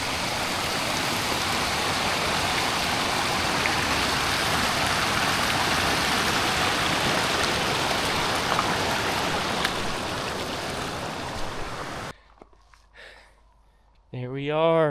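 River flowing in the Arctic near Narvik, a loud, steady broadband rush of water for most of the stretch, then cutting off abruptly to quieter sounds and a brief voice at the end.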